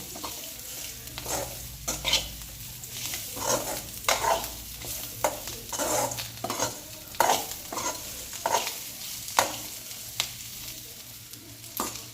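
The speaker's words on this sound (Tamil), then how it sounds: "இது கூட ஆட் பண்ணிவிட்டு அதையும் ஒரு அரை நிமிஷத்துக்கு நல்லா பரட்டி விட்டுக்கலாம்" Pirandai (adamant creeper) stir-fried in a pan for chettinad-style thuvayal chutney, with a steady sizzle broken by repeated scraping stirs of the spatula at an uneven rhythm, close and fairly loud, no voices.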